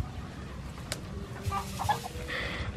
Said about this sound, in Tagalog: Maganda sa katawan ng manok yun ne.